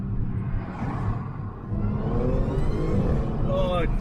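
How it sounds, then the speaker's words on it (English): A supercharged car engine revving in first gear with the windows down, a loud rumbling rise with a climbing whine, heard from inside the cabin as people talk over it. "You can hear the supercharger just winding itself up."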